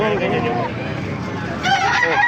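Kanawayon rooster crowing at a busy Baliuag market, two long rising crows in succession with a faint murmur of crowd babble beneath.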